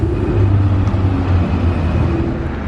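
A Mercedes GLC 63 drives past in slow Monaco traffic, its engine a loud, close, steady rumble with no speech.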